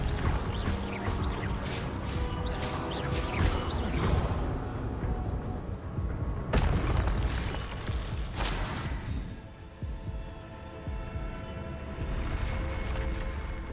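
An Expelliarmus spell is cast in the Hogwarts Legacy video game, a dense wash of magical game effects with sharp crash-like bursts, continuous and loud throughout.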